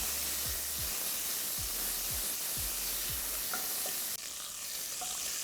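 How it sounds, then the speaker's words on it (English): Bacon pancetta sizzles and spits steadily in a pot for a chicken hotpot, a close continuous frying hiss with a few low stirring knocks and no voices. "I'll cook this bacon now until it's nice and golden brown"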